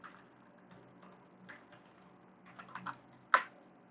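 Code being typed on a computer keyboard, with sparse, soft key taps that pick up into a brief flurry and end on one sharper keystroke, in a quiet room without speech.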